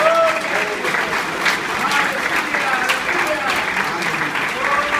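A church congregation breaks into loud, sustained applause, dense clapping from many hands filling the room, with a voice speaking over it.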